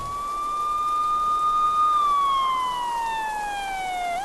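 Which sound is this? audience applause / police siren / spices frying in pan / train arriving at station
police siren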